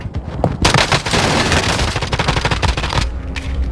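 Rapid bursts of gunfire from akimbo 1911 pistols in a Warzone battle royale match, loud and close, with dense overlapping shots firing almost continuously before a brief pause.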